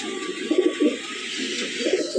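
A teddy pigeon coos softly in a loft, a few low, rounded rolling calls close by over a faint steady background hiss.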